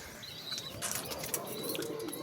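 Pigeons coo softly near their chicks and eggs, low close calls over a steady background with some faint chirps mixed in.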